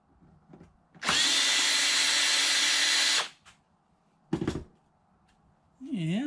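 A power drill driving out screws to remove face plates from scrap electronics buzzes loudly for two seconds, followed by a short second burst, with brief speech around it.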